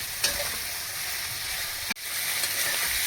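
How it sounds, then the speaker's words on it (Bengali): Vegetables turned with turmeric fry in a pan for fried rice, a continuous close sizzle with scraping stirs and one brief interruption near the end. "সবজিটা হয়ে গেছে ভাজা ভাজা, ভাত তুলে দেবো"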